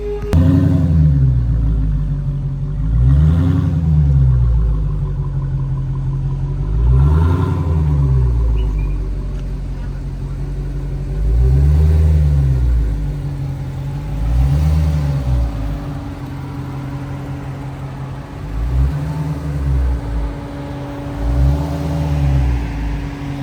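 A 2023 Dodge Hellcat Redeye Jailbreak is driven with its engine rumbling loud and close, rising and falling through repeated rev swells as it accelerates and shifts, with no voices over it.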